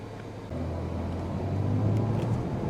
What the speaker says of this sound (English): You'll hear noise from the tires because of the high pressures.